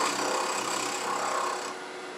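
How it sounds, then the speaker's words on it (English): Wood-turning gouge on a lathe, bevel at 90 degrees, cutting about an eighth of an inch under the natural edge of a turned wooden mushroom: a steady close hiss of shaving that tapers off near the end. "I'm going to come in from the side, with the bevel going 90 degrees, and I'm just going to come under that natural edge by maybe an eighth of an inch."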